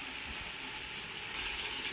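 Tomatoes and green chilies fry in hot oil for chicken biryani, giving a steady, dense sizzle that fills the moment close up with no talking.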